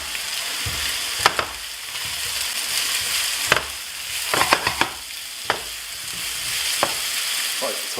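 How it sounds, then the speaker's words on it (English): Mushrooms and leeks for a chicken, mushroom and leek pie sauté in a pan with a steady, even sizzle, punctuated by occasional sharp taps and clicks of stirring, with no talking. "So what I'm going to do now is just let these saute about 3 to 4 minutes without colour."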